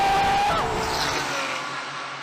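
A hypercar's engine roars loud and close while driving, a dense rushing drone with a brief high tonal whine that fades as the sound eases off.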